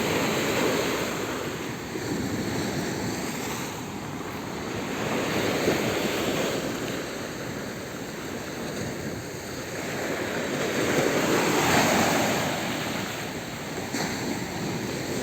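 Ocean waves roll in and break on a beach in Alexandria in slow, repeating surges, with a constant wash of surf and some wind rumble between them.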